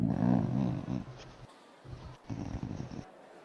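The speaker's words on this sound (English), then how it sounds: "Is he growling at us?" A dog growls low and rough in close, breathy bursts separated by short pauses, at moderate loudness at a gathering, with no talking.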